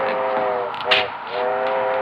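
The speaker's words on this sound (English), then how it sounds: "Here comes the train." A train arrives with a steady, loud whistle tone sustained over rumbling rail noise, broken briefly by a short clank before the whistle resumes, in an old 1940 film scene.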